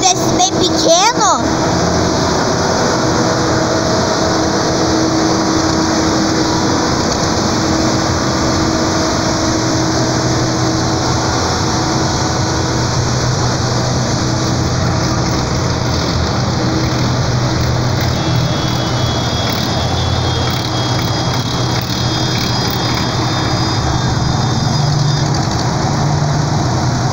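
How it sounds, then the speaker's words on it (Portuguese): A small tractor engine runs steadily at a tractor festival, a constant loud mechanical drone throughout with outdoor crowd noise and people talking over it. "Um tratorzinho desse bem pequeno."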